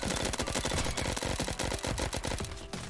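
Rapid automatic gunfire in the Roblox shooter Bad Business, a dense continuous burst of loud shots packed close together for nearly three seconds, then cutting off.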